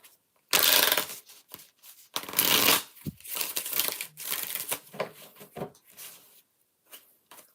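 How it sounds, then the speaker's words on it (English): Tarot cards are shuffled up close in several bursts of papery riffling and soft tapping, with short pauses between them and no talk. "All right, 5 shuffles."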